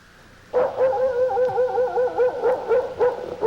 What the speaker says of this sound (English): Oh, a dog.